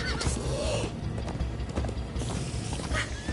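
Horses neigh and gallop with steady clip-clop hoofbeats in the video game Minecraft: Story Mode, a loud whinny rising over continuous, busy hoof noise.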